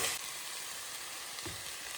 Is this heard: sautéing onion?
yes